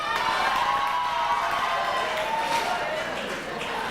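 A crowd at a 1994 BBQ coronation contest cheers and applauds for Danny, a steady dense roar of voices and clapping that stays loud and close throughout.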